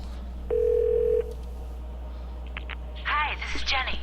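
A telephone rings in the video game The Darkness, one steady electronic tone lasting under a second, followed by faint game speech in the background.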